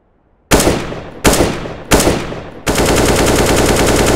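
Gunfire from a modded weapon in the game CS:GO: three loud, sharp single shots about a second apart, then a sustained, dense burst of rapid automatic fire, alone with no talk.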